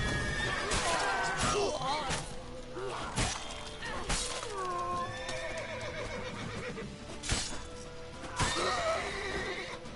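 A horse whinnies several times amid clattering hooves and sharp impacts in the video game The Witcher 3, with a person speaking over the commotion.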